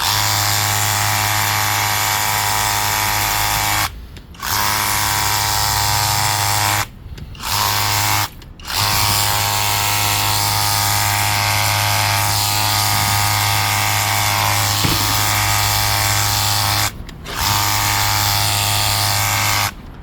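A steady loud motor whine with hissing spray from a Narion cordless pressure washer with a 40-degree fan nozzle runs continuously, cutting out briefly a few times before resuming.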